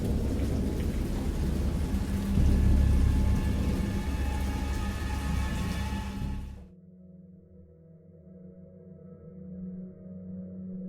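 Thunderstorm with heavy rain in the horror game Dagon: a dense, loud roar of rain and rumbling thunder for about six seconds, then a sudden cut to a much quieter low rumble and soft patter.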